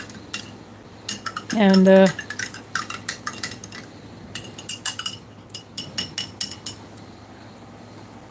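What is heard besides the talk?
stirring a ration meal in a pot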